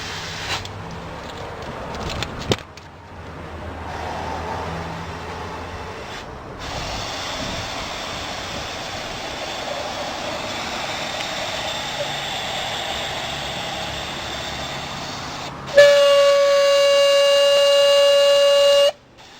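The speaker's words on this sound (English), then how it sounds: "the multi-port is going to start inflating" Air hisses steadily from a multi-port regulator as it inflates tire balls inside a tire, a long, even rush of air that ends with a sharp, loud tonal whine.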